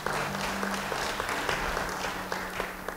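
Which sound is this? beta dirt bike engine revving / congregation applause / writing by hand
congregation applause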